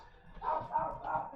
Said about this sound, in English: That's my dog going crazy upstairs.